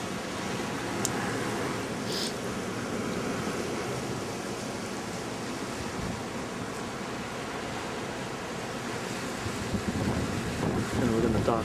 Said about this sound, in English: So the whole boat is spinning around.